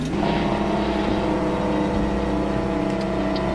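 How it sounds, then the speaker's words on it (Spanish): A Mack RS700 truck engine braking while slowing, a loud sustained low rumbling drone with steady tone and slight whir, close and continuous, with no voices. "Freno a motor."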